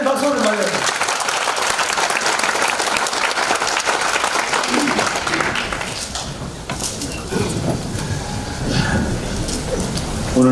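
An audience at a talk concert claps steadily to welcome a doctor onto the stage, dense and continuous applause filling the whole stretch with no speech over it.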